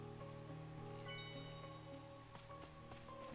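Heavy rain pours steadily in Sword Art Online Hollow Realization, a continuous hiss sitting beneath a droning musical background, with a few faint brighter ticks scattered through.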